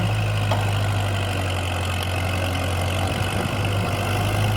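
A tractor engine drones at idle throughout in a cassava field, a low constant rumble with a faint knocking texture and no voices.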